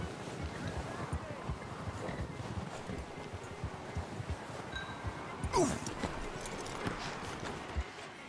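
Horse hooves clip-clop at a slow walk in the Red Dead Redemption 2 video game, steady, soft thuds under a low outdoor wind and rustle bed, with a brief creak partway through.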